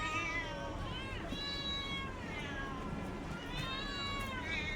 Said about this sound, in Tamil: பாருங்கள் பூனை.